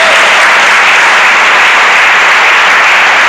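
A church congregation claps for Jesus during a sermon, dense sustained applause filling the room, loud and continuous with no pauses.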